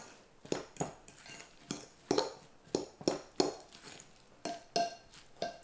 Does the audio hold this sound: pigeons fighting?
no